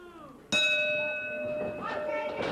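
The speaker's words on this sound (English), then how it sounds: "The bell sounds." A wrestling ring bell at a 1979 Detroit Big Time Wrestling match strikes once, loud and sudden, then rings on with a long, sustained tone beneath crowd noise and voices.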